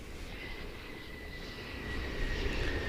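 Air Seoul airliner approaching to land, a steady broadband jet engine roar with a faint whine, growing slightly louder toward the end as it nears, heard alone without talk.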